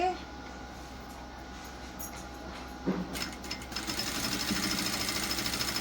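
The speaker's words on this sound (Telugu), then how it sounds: "మనం మార్కింగ్ ఎక్కడికైతే చేసుకున్నామో అక్కడికి స్ట్రైట్గా కుట్టుకుంటూ రావాలి" A sewing machine stitches a plain blouse, a soft rapid mechanical chatter that grows denser and louder in the second half, with faint handling sounds.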